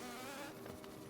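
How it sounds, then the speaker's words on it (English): Bees buzzing close by in a steady, loud, continuous drone with no pauses. "The bees are a real pain."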